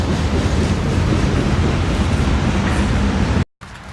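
A train rolls past close by, a steady broadband rumble and rush that holds loud and even for about three and a half seconds before cutting out abruptly.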